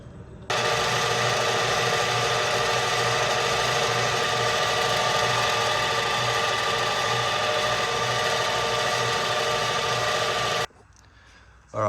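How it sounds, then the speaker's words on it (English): A machine is cranked up to spin its wheel fast for edge trimming, a loud, steady, close whirring drone held for about ten seconds before it cuts off abruptly. "I crank the machine right up and I get it spinning really fast"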